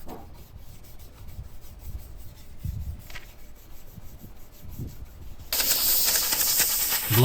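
A burst of blown air hisses across charred wooden shutter boards, starting abruptly after several seconds of quiet rubbing and scraping and staying loud and close to the end.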